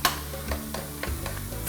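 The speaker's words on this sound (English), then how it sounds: "we'll saute our onions for a few minutes, 2 minutes, until they're nice and translucent, almost golden brown." Onions sauté in a pan while being stirred with a utensil, a steady sizzle running underneath repeated soft scraping strokes at a regular, unhurried pace, close and moderately loud.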